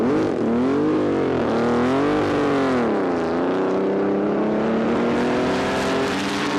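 Pre-war racing cars at a vintage race meeting: loud, close engines sweeping past with rising and falling pitch, one car after another in a continuous roar.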